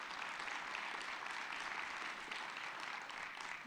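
Steady, dense applause from a crowd at an award ceremony, continuous clapping throughout with no pauses, moderately loud and filling the room.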